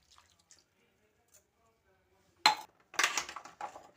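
Water is poured over boiled peanuts in their shells, starting after a quiet stretch as a sudden close splash and clatter, then a second burst of pouring with drips and light shell rattles.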